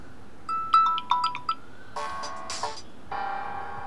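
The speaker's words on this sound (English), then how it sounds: "You can set a sound like a ringtone." A bright electronic ringtone from a Samsung Galaxy Tab A7 Lite alarm chimes a quick melody of ringing notes, pauses briefly, then plays again with a buzzier, fuller tone.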